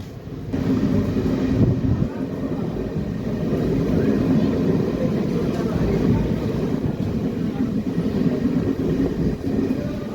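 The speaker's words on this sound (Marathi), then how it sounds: "भोकर रेल्वे स्टेशनवरून आपली गाडी जी आहे ती निघालेली आहे" Nanded–Adilabad Intercity Express pulling out of Bhokar railway station in heavy rain, heard from on board as a continuous low rumble and rolling drone, steady and fairly loud throughout.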